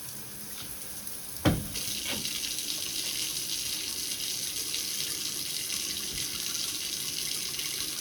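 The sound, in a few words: running water from tap into bathtub drain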